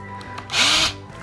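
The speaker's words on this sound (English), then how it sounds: "hold the thing while you're drilling it, keep your hands away from the line of fire when the drill bit pokes through" A power drill bores through wood, a short loud whirring burst that rises and cuts off after about a third of a second, heard up close against a quiet background.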